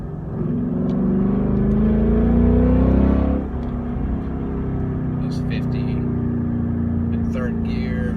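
A 2015-18 Ford Mustang with a Corsa exhaust drones while driving in gear, heard from inside the car as a loud, steady low rumble that drops in revs after a few seconds and carries on evenly.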